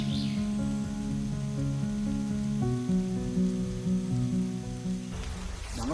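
Steady rain pours down in a Kerala forest during a ride, a continuous hiss of drops that stays even throughout, mixed with a droning tonal hum underneath and no talking.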